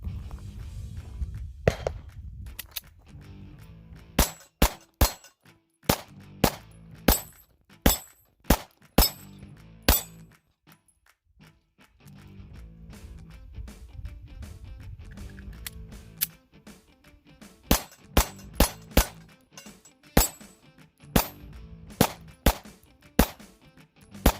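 Sig Sauer P365 pistol firing PMC 115 grain full metal jacket rounds: loud, sharp shots in quick strings of several, with brief pauses between volleys and no talking.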